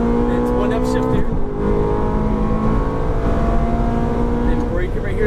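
Ferrari F430 on a race track pulls hard under acceleration with a steady, dense engine roar and one upshift, while someone talks over the noise.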